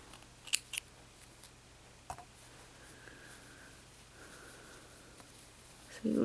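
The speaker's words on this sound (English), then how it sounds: "So we can snip that off." Scissors snipping crochet yarn on a crocheted flower, two quick sharp snips close up early on, followed by a softer click amid quiet handling noise.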